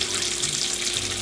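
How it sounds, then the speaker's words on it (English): Chicken broth is poured into a big cooking pot, a continuous splashing liquid rush that stays steady and fairly loud throughout, with no voices. "You pour you some chicken broth over into your"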